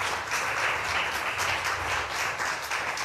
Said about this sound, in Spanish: ¿Cuántos pueden aplaudirle al Señor?